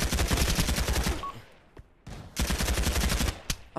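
Rapid automatic gunfire from a weapon in the VR shooter Pavlov VR, two loud sustained bursts separated by a short pause near two seconds, with a few isolated shots in the gap.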